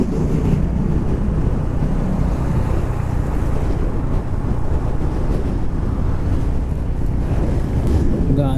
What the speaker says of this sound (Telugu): గాలి మాత్రం బీభత్సంగా వస్తుంది.